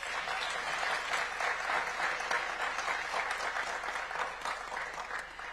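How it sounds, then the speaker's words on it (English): Audience applauding at the Africa Forward 2026 conference, steady sustained clapping from a large crowd throughout, moderately loud and even. "Please give them a round of applause."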